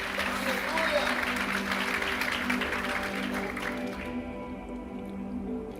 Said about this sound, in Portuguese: Se quiser dar força para o nosso irmão e aplaude junto